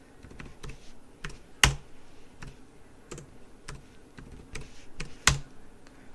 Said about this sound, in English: Type your sudo password and type the new password for your root account.